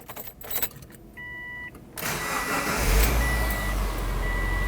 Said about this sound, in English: now it's time to start the vehicle